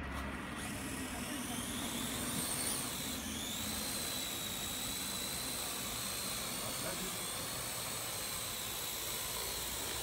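A small drone hovers and spins in place, its steady high-pitched whine of rotors droning continuously and loudly throughout, close by, with no gaps.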